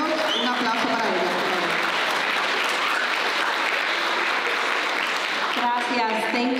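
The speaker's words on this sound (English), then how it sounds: "Please give her a round of applause." Audience at a school holiday music event applauding, dense continuous clapping that fills the whole stretch, with voices and cheers breaking through near the start and end.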